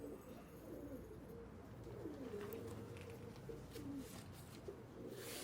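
Reshampara Parel pigeons coo softly and repeatedly in a low, rolling murmur, several birds overlapping at close range with faint background chatter and no clear speech.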